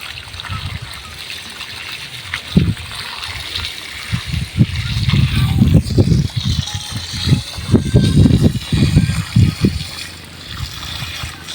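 Water poured over the exposed roots of a durian plant splashes and trickles in uneven bursts, close and fairly loud, with quieter dribbling before and after the heavier pours.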